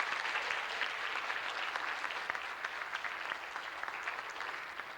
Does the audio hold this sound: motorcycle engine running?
no